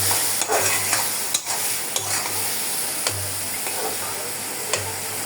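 Garlic paste frying in a pan for a fish bhuna, stirred with a spoon that clinks and scrapes at intervals over a steady close sizzle.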